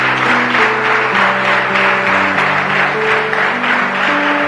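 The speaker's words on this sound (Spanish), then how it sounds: "Denle un aplauso al Señor Jesús." A church congregation applauds in praise of Jesus, a steady, dense wash of clapping that carries on for several seconds over sustained organ or keyboard chords.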